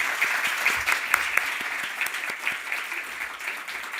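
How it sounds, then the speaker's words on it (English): Audience applauding after a panel discussion on prison education, a moderate crowd clapping with individual sharp claps poking out of the wash, steady throughout and without voices. "let's give everyone a round of applause."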